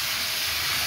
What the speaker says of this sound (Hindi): देखिए ये अच्छी तरह से फ्राई हो रही है